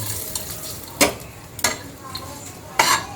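Whole spices and a bay leaf sizzle in white oil, a soft steady frying hiss broken by a few sharp clinks and stirring scrapes of a utensil against the pan, close by.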